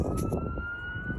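An emergency vehicle siren holds a steady wailing tone behind an outdoor metal-detecting dig, with constant street and wind noise and no speech.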